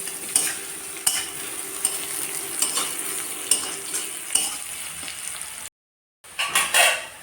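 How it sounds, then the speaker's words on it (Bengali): Garlic and onion frying in a pan, a steady close sizzle broken by repeated clacks of a stirring utensil against the metal, with a brief silent gap near the end. "আচ্ছা রসুনগুলো ছেঁচে রাখছিলাম আর কি এরপরে এই দুইটা ভালো করে ভাজবো"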